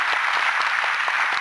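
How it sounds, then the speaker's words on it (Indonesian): Brief burst of audience applause for a child beatboxer on stage, a dense steady wash of clapping lasting just over a second. "tepuk tangan buat Diki dong"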